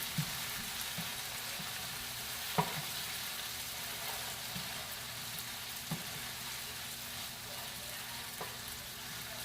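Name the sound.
stirring beef frying in a pot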